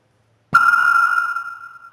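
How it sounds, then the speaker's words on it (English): A burning splint held to the mouth of a tube of hydrogen gas in a laboratory gives one sharp pop, followed by a bright whistling tone that rings on for over a second and slowly fades. "That's the pop sound."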